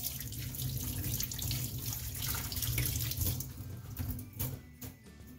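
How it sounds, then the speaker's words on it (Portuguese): Water from a kitchen tap runs continuously as hands are washed beneath it, a steady close splashing that carries through with slight shifts and a small rise near the end. "vamos simplesmente lavar as nossas mãos duas vezes"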